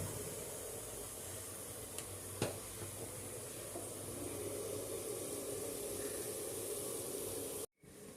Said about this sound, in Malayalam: ആ പുട്ട് നല്ല ആവിയൊക്കെ വന്നു റെഡി ആയിട്ടുണ്ട്